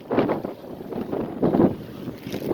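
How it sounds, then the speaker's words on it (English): Strong wind buffets the microphone in heavy, rumbling gusts, surging and easing every second or so, loud and close. "It's so windy here."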